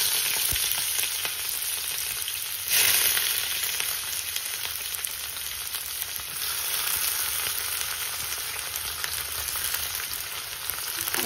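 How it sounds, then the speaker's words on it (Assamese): Onions frying in hot oil in a heated karahi (wok), a loud, dense, continuous sizzle heard close up, surging briefly as it crackles and otherwise steady, with no talking. "এইফালে কেৰাহী গৰম হৈ গৈছে, গৰম হওঁতে মই এতিয়া পিঁয়াজ দি দিছোঁ"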